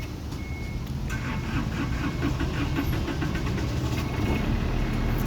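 A Sumitomo mini excavator's engine runs steadily at a low, continuous rumble, close by and without talk over it.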